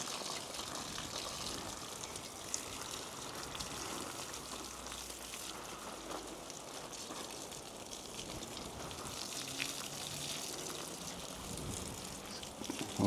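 Water showering steadily onto garden soil, a constant hissing spray like rain that holds at an even level for the whole stretch with no voices.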